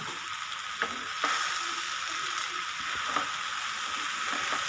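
Chili spice powder is stirred into frying ivy gourd in a pan, giving a soft, steady sizzle with a few light scrapes from stirring and no voices.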